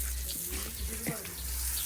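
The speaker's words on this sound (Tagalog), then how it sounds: "Kailangan dinidiligan yung mga bonsai." Water runs steadily from a tap or hose while bonsai plants are watered, a continuous hissing spray that holds under faint background voices.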